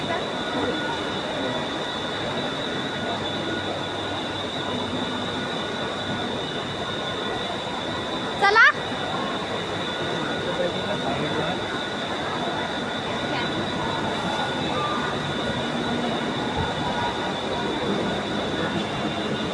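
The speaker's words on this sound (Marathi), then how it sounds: "बघा ट्रेन पण येते" A train rolling into a Mumbai station platform with a steady, loud rumble and a sustained high wheel squeal, plus one brief clank midway.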